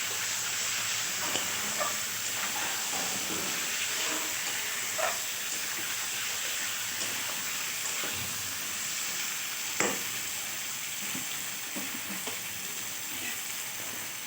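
Chicken with onions sizzles in a pan for a dry-cooked chicken curry, a constant close hiss broken by occasional soft stirring scrapes and a single sharper clink, with no speech.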